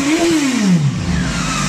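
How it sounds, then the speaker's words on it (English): A Honda CB900F motorcycle engine revs up sharply and then falls back, its loud exhaust note rumbling close by before settling into a steady idle. "This is the exhaust note."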